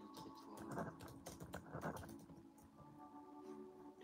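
Fast, light clicks of typing on a computer keyboard, with irregular bursts of keystrokes, close but fairly quiet, no talking.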